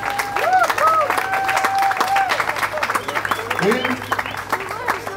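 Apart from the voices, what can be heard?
audience applause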